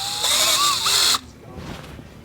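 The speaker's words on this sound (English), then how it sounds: "You're gonna get a drill bit, poke a little hole in there" A drill bit whines as it pokes a small hole into a two-stroke main seal on a KX450F motorcycle top end, a loud steady high-pitched burst lasting about a second before cutting off to quiet shop noise.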